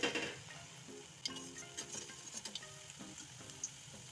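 Pakoras frying in hot oil while being turned until golden brown, a soft continuous sizzle broken by light clinks and small bubbling pops from a utensil, close and fairly quiet, with no talking.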